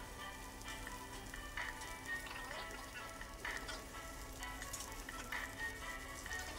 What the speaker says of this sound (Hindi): स्टेक हमारी बन रही है।